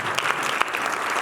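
A church congregation claps loudly during a sermon, a brief dense burst of many hands with a few sharper individual claps standing out.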